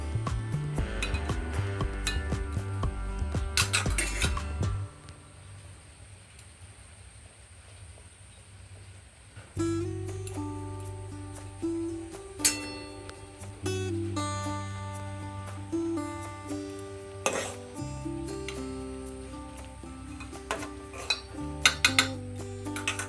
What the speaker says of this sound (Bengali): এবার চালটাকেও তুলে দিচ্ছি ভালো করে নেড়ে দিলাম যাতে তলায় না লেগে যায়